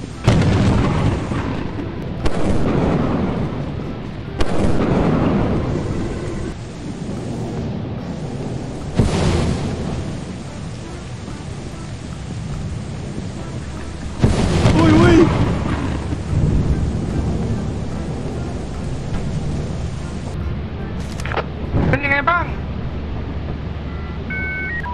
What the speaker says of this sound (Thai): โหดร้ายมากๆเลยฟ้าผ่านะครับ